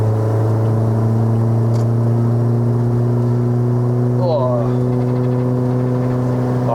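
A Toyota Vios with a swapped-in 1.8L 2ZZ-GE VVTL-i engine drives along, its steady mid-pitched drone and engine harmonics heard from inside the car, loud and constant, with talk over the top.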